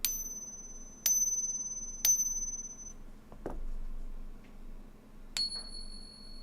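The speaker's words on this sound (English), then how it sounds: "And now silver. It's like a bell." A silver quarter coin rings like a bell when struck, four sharp clear pings spaced about a second apart, each with a long fading tone, plus a dull knock between them.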